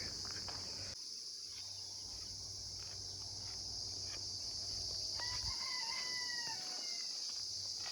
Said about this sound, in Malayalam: അപ്പുറത്തുനിന്ന് വൈകുന്നേരം കോഴി കരയുന്നുണ്ട്